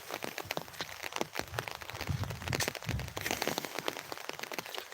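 Rain patters and taps on an umbrella during a monsoon downpour in Sultanpur district, a dense irregular crackle of close drops striking the fabric, loud and continuous with no talking.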